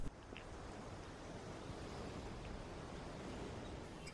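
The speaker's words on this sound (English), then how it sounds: "But you could hear the sea in that one. Here, I'll put it up to the microphone." A seashell held close to a microphone gives a steady, soft, ocean-like hollow rush with a faint low rumble, unchanging throughout and with no voices.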